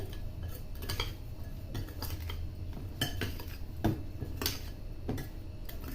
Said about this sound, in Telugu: ఇందులో కొంచెం ఆయిల్ కలపాలి ఆయిల్ కలిపి మొత్తం మిక్స్ చేసుకోవాలి